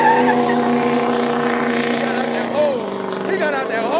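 A turbocharged street car engine with upgraded turbos roars steadily at high revs during a night street meet, a strong droning tone with a brief dip and rise near the end, loud and close over background crowd noise.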